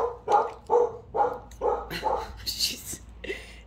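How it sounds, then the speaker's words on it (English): A young puppy barks in a quick run of about six sharp, fairly loud yaps, the rhythm loosening toward the end into a couple of higher yips and whines, heard indoors close to the microphone. "she doesn't normally bark."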